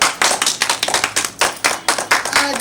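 A series of sharp hand claps in an uneven rhythm, close and fairly loud.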